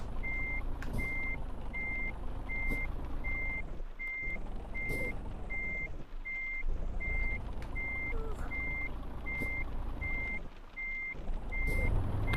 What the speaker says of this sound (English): I'm just reversing my trailer